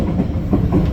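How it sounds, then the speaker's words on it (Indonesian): The Bengawan passenger train rolls along the rails with a loud, close, steady rumble and rhythmic clacking from the wheels, heard from on board with no talk. "kereta api Bengawan akan tiba di stasiun Lempuyangan"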